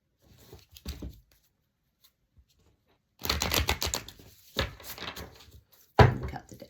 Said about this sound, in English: Let me cut the deck.